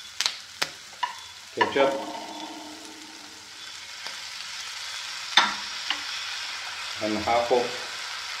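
Squid chilli fry cooking in a pan with tomato and chili added, giving soft sizzling under several sharp stirring clatters and brief bursts of frying, with a little speech in between.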